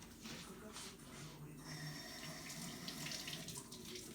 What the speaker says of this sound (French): Je rince la main vite fait.